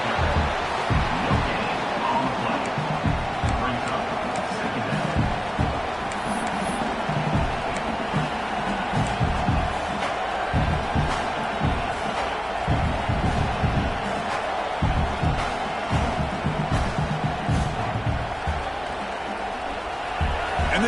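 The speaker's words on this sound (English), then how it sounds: "This crowd coming to life here, trying to help the defense get a stop with the offense pinned back." A large football stadium crowd keeps up a dense, sustained roar of cheering and noise throughout, loud and continuous, with scattered whoops and a commentator's voice mixed in.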